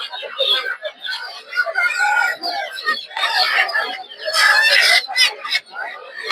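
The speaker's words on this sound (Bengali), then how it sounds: "এই দেখতে পাচ্ছেন এদিকে হচ্ছে দেশি মুরগি প্রচুর পরিমাণে।" Native chickens at a busy village market cluck and squawk amid constant crowd chatter and bustle, with birds and people mixed close together throughout.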